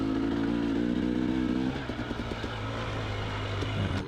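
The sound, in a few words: two-stroke motorcycle revving on desert hill climb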